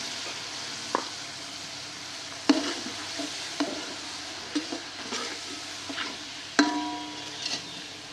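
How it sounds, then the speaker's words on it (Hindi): Finely chopped tomatoes added to a potato rice pulao and stirred, a steady soft sizzle with occasional sharp spoon knocks against the pot, no talk. "तीन चार टमाटर हैं मेरे पास बारीक कटे हुए, इस मौके पे ये शामिल कर लेंगे।"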